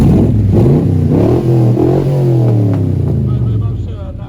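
A 2018 Ford Cobra's engine revving loudly with the microphone near the exhaust, a deep burbling growl swelling and easing in a few surges before settling, with a voice faintly under it.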